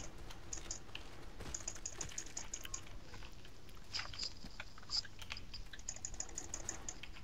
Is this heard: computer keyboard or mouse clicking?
yes